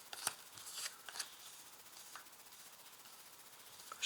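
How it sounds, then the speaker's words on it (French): Tarot cards are laid out one by one on a table, producing soft, faint swishes and light taps, quick at first and then sparse, close by with no talking. "Donc je place 8 cartes."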